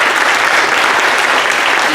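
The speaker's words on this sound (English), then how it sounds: "give yourselves a round of applause" Loud, dense applause from a large crowd, continuous and even throughout.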